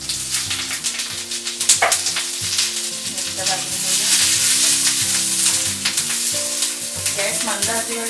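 Chillies fry in hot oil in a pan for kharda, a loud, continuous crackling sizzle with occasional stirring clatter, heard over background music.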